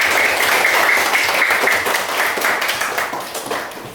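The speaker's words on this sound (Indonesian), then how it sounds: "berikan aplaus" Applause from a classroom of students for a classmate who has just finished presenting, steady dense clapping that stays loud throughout and tapers slightly toward the end.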